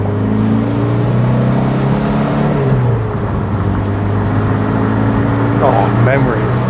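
An Austin Montego estate car drives along an open road with a steady, loud engine drone and tyre roar. The engine note shifts partway through as it picks up pace, heard from close by inside the car.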